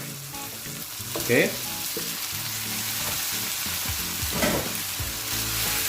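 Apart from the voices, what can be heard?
marinated pork frying with tomato in a pan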